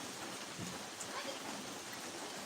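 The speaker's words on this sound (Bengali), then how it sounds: "আমাদের এলাকায় বৃষ্টি হচ্ছে সকাল থেকে" Continuous rainfall hisses evenly across the whole stretch, a constant wash of drops with no voices.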